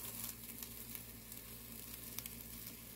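Egg sizzling and frying steadily in a pan while a Korean rolled omelette (gyeran-mari) is cooked, a soft continuous crackle with a few small pops and no talking.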